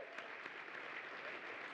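Audience at a NASCAR Touring Series awards night applauding, steady dense clapping from a large crowd, heard at a distance and fairly quiet throughout.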